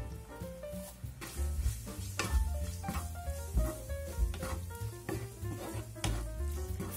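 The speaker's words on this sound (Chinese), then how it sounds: "煸炒到肉变色，我们撒一点白胡椒或者料酒去腥" Minced meat stir-fried in a pan, with a soft continuous sizzle under repeated scraping and clanking of a spatula against the pan, close and fairly quiet.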